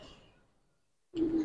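A Giribaz pigeon gives a single low, throaty coo, close and fairly loud, rising abruptly from near silence in the final third.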